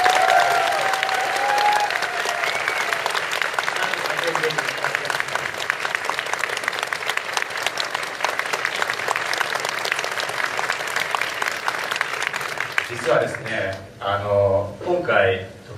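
A crowd at an Ingress after party in Tokyo claps for the DJ and VJ, sustained loud applause across most of the stretch, then a voice speaks through the fading end.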